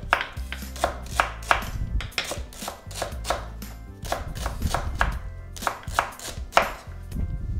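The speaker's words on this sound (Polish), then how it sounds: "A marchewkę kroimy w kosteczkę." Carrot being cut into small cubes with a knife on a board, a fast, steady run of crisp close chops in even rhythm with short pauses.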